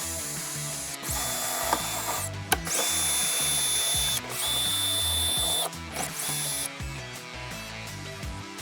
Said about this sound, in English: we'll then take our 11mm socket. We have 1, 2, 3, 4, 5, 6 nuts that we'll have to remove.